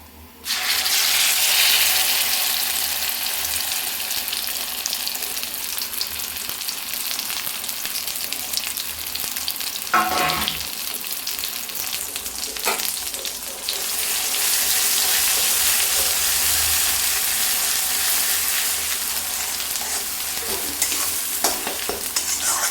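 Garlic and pointed gourd paste frying in a pan for a homemade potol bhorta, a steady broad sizzle with occasional stirring scrapes, close and continuous, no talking.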